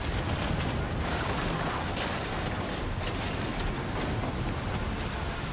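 Warship cannon fire during a naval battle in the video game Assassin's Creed III, a dense, continuous roar of booming shots and crashing impacts over churning sea, loud and without pause.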